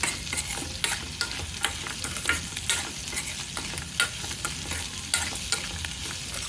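Ingredients with turmeric fry in a pan for poha upma, giving a close, bright sizzle broken by regular scraping strokes of a spatula stirring the pan.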